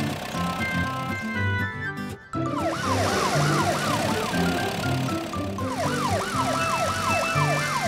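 A wailing police car siren rises and falls in repeated sweeps, close and loud, with a brief break before the wail resumes over background noise in a children's cartoon.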